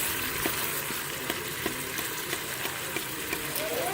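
Food searing in a Nuwave pressure cooker, a steady broad sizzle with occasional small pops and stirring clicks, close and continuous.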